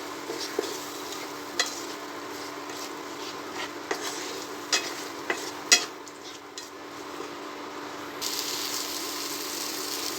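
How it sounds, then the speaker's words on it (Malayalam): Coriander and chili powder frying in a pan for a brinjal dry gravy, a soft steady sizzle under occasional sharp scrapes and taps of a spoon stirring, close and fairly quiet. "മല്ലിപ്പൊടി മുളകും പൊടി ഇട്ട് കൊടുത്തു. അത് നല്ലൊന്ന് ഫ്രൈ ആവട്ടെ, പച്ചമണം മാറട്ടെ."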